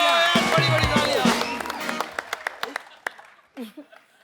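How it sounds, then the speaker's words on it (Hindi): A TV comedy show studio audience bursts into loud applause and cheering, which thins into scattered single claps and fades, with voices and laughter mixed in. "एक बार मिस्टर अर्शद वारसी और मरिया के लिए जोरदार तालियां।"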